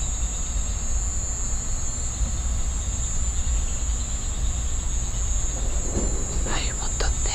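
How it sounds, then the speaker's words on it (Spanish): A steady high-pitched insect trill drones on through a night ambience with frogs and a low background hum, and a few faint chirps stand out near the end. "No sé si escucháis, pero se escuchan la rana, los bichitos,"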